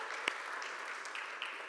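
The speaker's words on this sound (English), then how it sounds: "can we all give them a round of applause" Audience applause from a crowd in a talk or seminar setting, a steady wash of clapping held at moderate level through the whole stretch, with no voices over it.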